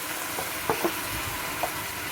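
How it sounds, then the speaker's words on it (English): Seasoning stirred into meat cooking over a fire for palm nut banga soup, a soft continuous sizzle with a few faint scraping stirs, steady and close. "So with our meat on the fire, we're going to go ahead and add our seasoning"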